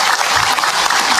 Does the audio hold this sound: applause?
yes